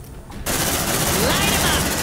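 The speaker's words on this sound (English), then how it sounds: "Contact! Suppressive fire." Marines in Aliens: Dark Descent lay down suppressive fire: after a brief quiet moment, sustained loud automatic gunfire erupts and continues densely to the end, with voices partly mixed in.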